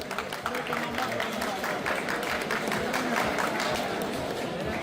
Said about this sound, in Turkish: Hepiniz için böyle bir alkış olsun, Egemen için de olsun.